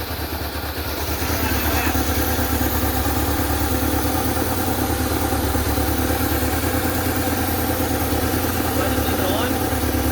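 A 2003 Saab 9-3 2.0t engine idles after a throttle body fix, a steady close mechanical drone that settles in after a brief start and runs evenly throughout.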